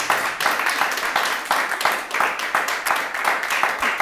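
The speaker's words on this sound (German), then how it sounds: "Und jetzt holt ihr euch erstmal euren Applaus von 5 Leuten, die wie 50 klatschen, ab." Applause from a small audience of about five people clapping enthusiastically at a German comedy talk show, steady dense claps filling the whole stretch at moderate loudness.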